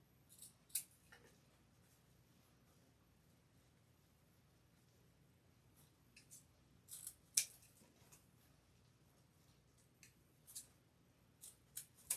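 Scissors snip the ribbon tails of a handmade hair bow, producing a few sparse, quiet cuts spread across a near-silent background with light handling noise.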